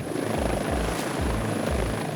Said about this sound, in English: a victim is flown via medical helicopter to the hospital